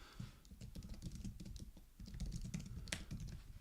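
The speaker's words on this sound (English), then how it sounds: "I'm just typing my poll." Rapid, steady keystrokes on a computer keyboard close by, a dense continuous patter of clicks at low volume with no talking over it.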